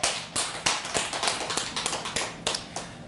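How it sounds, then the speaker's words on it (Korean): A church congregation claps in thanks after a Sunday sermon, a dense, steady patter of many hands heard from across the sanctuary at moderate volume, with no voices over it. "우리 주님께 감사의 박수 올려드리겠습니다."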